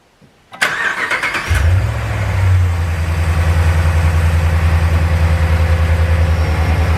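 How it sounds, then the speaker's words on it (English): A RAM 1500 pickup engine, from the 2009 to 2018 years, cranks briefly with a quick rhythmic whir, catches loudly, then settles into a steady low idle, close and clear. "Cranked right over, just like I would have expected it to do."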